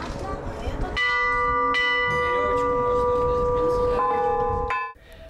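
Several church bells ring out in overlapping strikes, their tones sustaining and ringing on, close and clear over faint background voices, then fading away.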